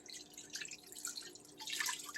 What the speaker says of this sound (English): we're going to add some water to the pan